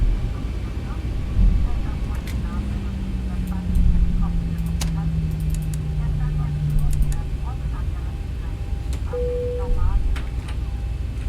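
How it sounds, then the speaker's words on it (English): Boeing 737-800 airliner lining up on the runway in the X-Plane 11 flight simulator, a constant low engine rumble with a slowly falling tone, faint clicks and beeps, under a steady background hum. "we have just been cleared for takeoff, so we'll go ahead and line up on the runway."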